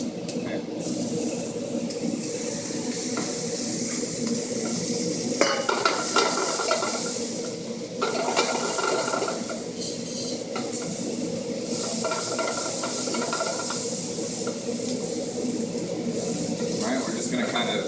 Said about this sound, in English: Alright, we're just going to kind of saute this.